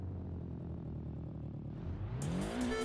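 A freshly swapped engine in a tuned import car revs hard, a steady low drone climbing into a rising, rasping wail near the end, loud and close with no talk.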